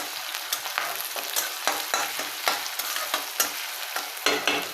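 Green chillies and curry leaves fry in a pan for kande pohe, a bright, continuous sizzle broken by repeated scraping stirs at an uneven rhythm, close and alone.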